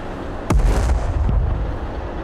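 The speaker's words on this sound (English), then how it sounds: "We just launching the mortar all day." A mortar round fires in the video game Broken Arrow: one sharp, loud launch boom followed by a deep rumbling tail and a faint second thump, with no talking.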